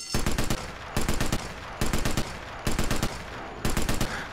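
A two-handed gun in the Sniper Elite VR game fires in five rapid bursts of automatic shots, each burst roughly half a second long, loud and close, separated by short gaps.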